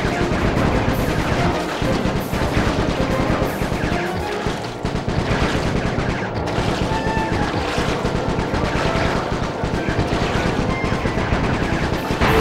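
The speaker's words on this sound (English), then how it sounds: "My gun overheated. Guess I should use short burst." A machine gun in Sly 3 rattles almost continuously in long, dense bursts, loud and close, with crashes and impacts mixed in as the weapon keeps firing until it overheats.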